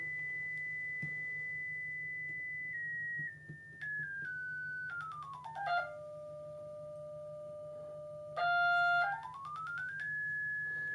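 A steady pure electronic sine-wave tone from a multimeter-oscilloscope's signal generator holds near 2 kHz, then steps down in pitch through several levels, sweeps lower, and later climbs back up; clean and sustained.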